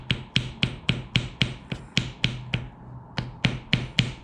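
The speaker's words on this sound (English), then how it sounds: "Got a little hammer. We're going to see if we can knock out a template here." A small hammer taps around the edge of paper laid over a metal part to knock out a template for a watchmaker's spindle maintenance fixture. The taps are sharp and bright, about a dozen in a steady rhythm, close and clear with no talk.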